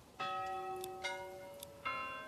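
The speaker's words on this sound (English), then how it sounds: "church bell sounds for no reason" A church bell in the medieval village of Manor Lords rings out in three clear, resonant strikes, each one ringing on and fading into the next.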